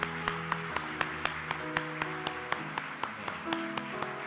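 Church congregation clapping together in steady, sharp, rapid beats throughout, a dense wall of applause filling the sanctuary with no voices on top.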